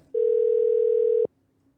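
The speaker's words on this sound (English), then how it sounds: "Speaking of Ben, I'm gonna call him back real quick." Steady telephone dial tone on a Bluetooth speakerphone call, one sustained even tone about a second long that cuts off abruptly, clear and alone.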